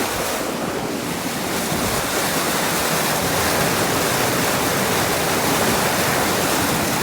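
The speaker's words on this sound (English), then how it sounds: "Guys, you can see that creek is rolling." Creek swollen after three days of rain rushing near its banks under a bridge, a loud, steady broadband roar of churning water with wind buffeting the microphone, continuous throughout with no talk.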